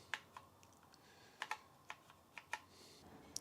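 Keys clack on an old, dusty Apple II Europlus keyboard, a sparse run of separate sharp taps with uneven gaps, close and fairly quiet against a faint background hiss.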